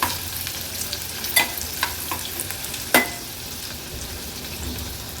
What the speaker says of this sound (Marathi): मीडियम फ्लेमवर कांदा व्यवस्थित शिजवून घेते।